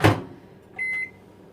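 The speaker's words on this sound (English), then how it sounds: "pop the microwave on for a minute." A knock or thump opens the clip, then a microwave oven is switched on in a home kitchen with a short electronic beep and its hum starting briefly; no voices.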